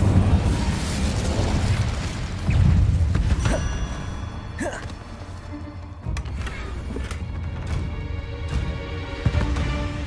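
Incendio fire spell cast in Hogwarts Legacy, a burst of whooshing flame with booming hits and crackles amid a busy game soundscape, a voice briefly heard.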